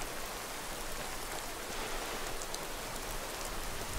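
In the Skyrim game world, a steady rain shower hisses and patters without a break, an even wash of droplets close by and no speech.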